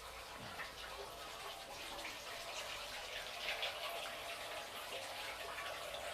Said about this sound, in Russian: Все, набираем воду.